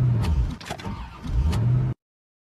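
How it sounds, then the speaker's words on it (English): A car engine that has overheated struggles and fails, giving rough cranking and sputtering bursts that cut out abruptly into silence. "Looks like we have a problem with the car. The engine is overheated."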